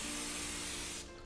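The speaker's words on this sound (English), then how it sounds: "take your cooking spray and spray some on here" Cooking spray hissing steadily from a can onto metal skewers for grilled chicken tikka, a close continuous spray lasting about a second before cutting off, followed by a faint clink.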